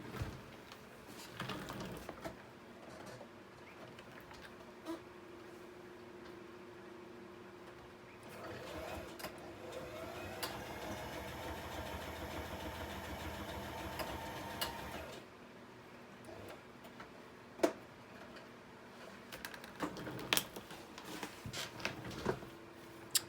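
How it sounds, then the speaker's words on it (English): A sewing machine stitches along the edge of a vellum postcard pocket, a fast rhythmic whir running for several seconds in the middle of the clip, with quieter handling rustles and clicks before and after. "and then I'm just going to quickly sew that edge."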